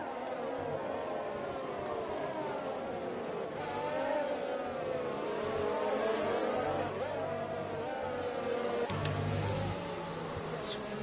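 Formula race cars in a racing game at the Abu Dhabi Grand Prix, several engines whining and sweeping in pitch as they run close and pass one another, with a rising buzz near the end.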